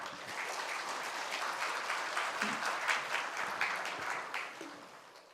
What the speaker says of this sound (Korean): 우리 선교사님 나오실 때 우리 따뜻한 박수로 우리 맞이하겠습니다